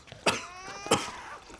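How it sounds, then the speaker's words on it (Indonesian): Two sharp, harsh coughs from a child who has been sick for days, about half a second apart, fairly close and moderately loud in a quiet room. "Tetapi kau sudah batuk berhari-hari."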